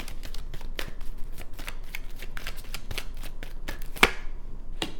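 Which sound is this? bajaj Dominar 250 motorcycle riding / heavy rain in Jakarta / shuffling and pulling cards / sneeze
shuffling and pulling cards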